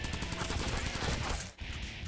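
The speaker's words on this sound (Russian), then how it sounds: "Ну, наверное, выберем Submachine Gun." Rapid submachine gun fire in the top-down shooter Crimsonland, a dense, loud, continuous rattle of shots with a brief break before firing resumes.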